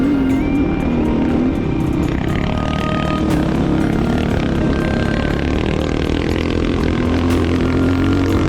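Rally motorcycles racing through the Baja 1000 desert at night, a continuous loud engine drone with shifting revs and rising whines, no pauses.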